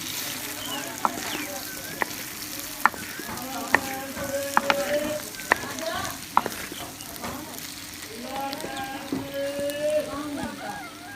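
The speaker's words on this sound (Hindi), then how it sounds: "अच्छी तरह मिक्स कर लेंगे सारी चीज़ों को" Cumin, dried red chilli and other ingredients for a potato-and-egg dish are stirred while they fry in a pan, with a steady sizzle broken by sharp scraping clicks of the spoon. A voice speaks faintly underneath.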